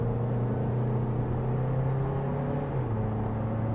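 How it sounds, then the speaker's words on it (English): A 2024 Audi Q3's engine in dynamic mode hums and rises steadily while driving around a turn, a moderate, continuous in-cabin drone with pitch shifting slightly, no voices. "let's hear the engine."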